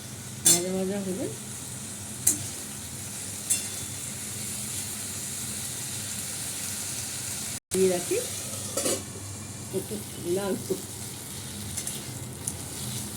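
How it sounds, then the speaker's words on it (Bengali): Potatoes and Gobindobhog rice frying in oil with kalo jeera, stirred in a pan: steady close sizzle broken by scraping stirs, with a brief pause midway and a few quiet spoken words. "এটা একটু ভালো করে কষানো হোক, ভাজা ভাজা হবে।"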